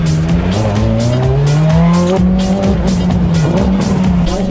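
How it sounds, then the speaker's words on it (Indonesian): A Ferrari drifts at a 2012 drift battle in Makassar, its engine revving hard and rising in pitch while the tires squeal continuously and loudly throughout, with no talking. "Baru pertama kali saya merasakan drift di arena ini menggunakan Ferrari."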